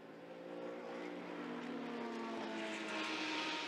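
GT race cars at the Hungaroring brake into turn one, a distant engine roar swelling and shifting pitch over a few seconds with no voices.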